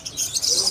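A lovebird at a market gives a quick burst of high, thin chirps, fairly close and moderately loud.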